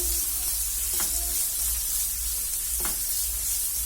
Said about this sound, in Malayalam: നന്നായിട്ടൊന്ന് വഴറ്റി കൊടുക്കാം